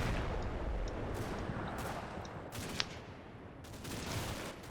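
Gunfire from the WWII tactical video game Combat Mission Red Thunder, a dense rumbling barrage of shots and blasts with a sharper crack near the middle, heard alone at moderate level.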